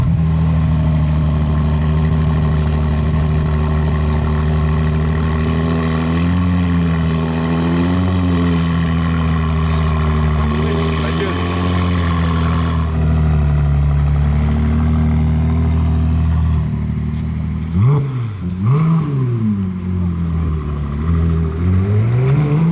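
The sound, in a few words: Ferrari 296 sports car starting up and revving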